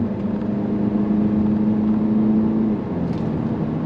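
A 2026 Mini Cooper S engine drones steadily at a low, even pitch, with a smooth hum that eases slightly near the end.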